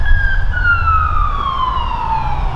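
An ambulance siren sweeps past as a steady, falling wail over low road rumble, loud and close at first and slowly fading as it moves away.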